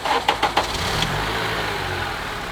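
A used junkyard Honda engine with about 90,000 miles runs at a steady idle, a low even drone with a few short knocks or blips near the start. It sounds close and no one speaks.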